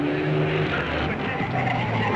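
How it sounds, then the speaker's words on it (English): A Ferrari race car in the 1953 Mille Miglia road race roars past, a loud, steady engine note with a brief tire squeal and the sound of it passing close by, with no voices. "And here's our Ferrari, still ahead of Rossellini's."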